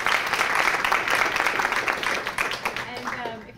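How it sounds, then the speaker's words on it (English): Audience clapping for panelists at a talk on medical practice models, a full round of applause that holds steady and then thins out toward the end as a voice starts to speak. "I want to give our panelists a big round of applause"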